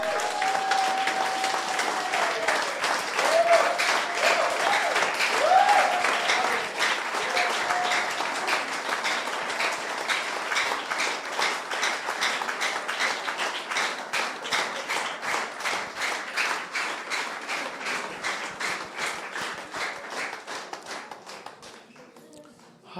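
A church congregation applauds loudly and steadily for over twenty seconds, a dense wash of clapping that fades near the end, with voices mixed in.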